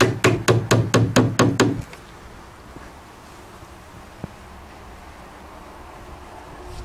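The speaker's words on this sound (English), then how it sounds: "Nail it all the way home." Hammer strikes driving nails into rough cedar fascia boards on a shed, seven sharp, evenly spaced blows close by in quick succession, then quiet outdoor ambience with one faint tap.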